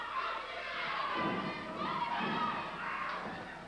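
A wrestling crowd cheers and roars at a territorial-era pro wrestling match, a dense, steady swell of many voices filling the arena with rising surges throughout.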